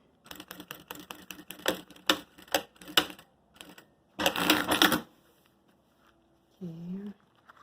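Sewing machine stitching fabric for a makeup case in short bursts of rapid needle clatter, close and moderately loud, with a longer run near the end and brief quiet gaps between.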